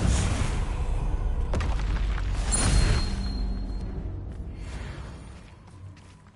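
A Confringo fire spell explodes in Hogwarts Legacy with a loud, boomy burst and a rushing whoosh, then a long rumbling tail that slowly fades.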